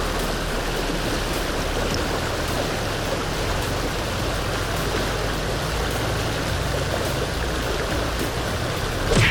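A river stream flows steadily, a broadband rushing wash of water that stays even and close throughout, with a brief brighter splash near the end.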